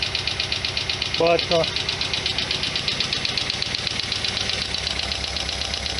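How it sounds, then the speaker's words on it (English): An idling 1991 Lotus Elan engine runs with a fast, regular ticking from a clicking lifter, close and steady, while someone briefly speaks over it. "I got like a lifter click going in there somewhere"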